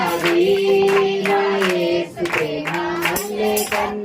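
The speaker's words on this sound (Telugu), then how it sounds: "ఇంకోసారి గట్టిగా చప్పట్లు కొట్టి పాడతారు." A church congregation at Sunday worship sings a Telugu hymn together, with rhythmic hand clapping beating along under the strong sustained voices.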